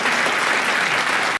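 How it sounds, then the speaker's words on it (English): A studio audience at a TV3 special bursts into warm, loud, dense clapping that holds steady for a brief moment before cutting off abruptly. "Give him a nice warm round of applause for you."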